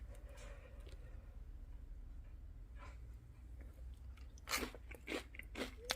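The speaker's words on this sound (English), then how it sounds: "Let me try one with some ranch dressing, see what it tastes like." Panko-fried chicken gizzards dipped in ranch dressing are chewed up close, quiet at first and then breaking into several crisp, crunchy bites near the end, with no talking.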